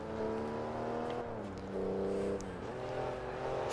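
A turbocharged car engine revs with anti-lag in Forza Motorsport 3, its steady droning note rising and falling through a couple of short revs, fairly close and with no talking.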